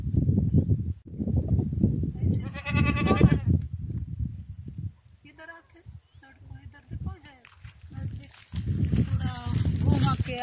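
A goat on a village farm bleats in several wavering calls, close and fairly loud, with people talking in Hindi around and between the bleats and some handling noise.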